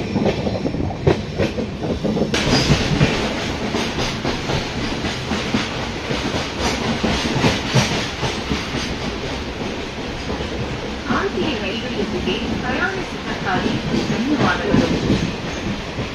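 Amrit Bharat Express train running near New Farakka Junction, a continuous loud rumble of wheels on rails with rattling carriages and clickety-clack, steady throughout.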